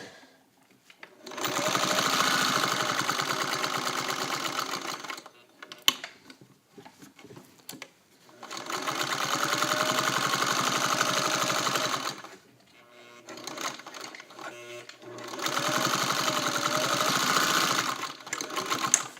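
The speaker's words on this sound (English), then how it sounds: "this machine is particularly suited for that free motion driving I just did" A fully restored Singer 301A sewing machine stitches in three long steady bursts, fast even mechanical whirring close to the microphone, separated by short quiet pauses with small handling clicks.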